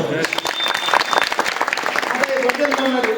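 A crowd claps steadily and loudly throughout at a devotional harinam saptah gathering, with a voice speaking over the applause.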